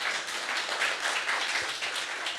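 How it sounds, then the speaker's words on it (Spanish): Audience applause for three speakers at a panel talk on media, transparency and freedom of expression: a steady, moderate wash of clapping from many hands, continuous throughout with no voices over it. "los aplaudimos a los tres de vuelta"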